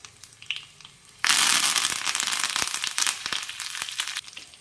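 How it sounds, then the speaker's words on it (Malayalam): Dried red chillies and curry leaves drop into hot oil with spluttering mustard seeds, setting off a sudden loud burst of crackling sizzle that continues steadily with sharp pops for a few seconds. "കടുക് പൊട്ടിയതിലേക്ക് 2 വറ്റൽമുളകും കുറച്ച് കറിവേപ്പിലയും കൂടെ ചേർക്കാം"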